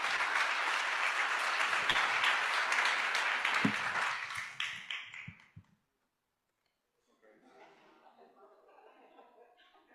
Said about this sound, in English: Thank you very much, and another applause